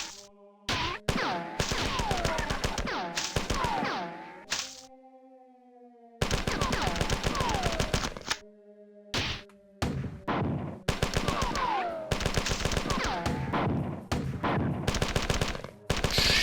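Rapid automatic gunfire from the first-person shooter Marathon comes in loud, dense bursts separated by short pauses, over a low droning hum.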